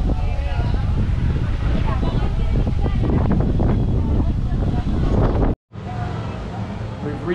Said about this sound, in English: It got real windy.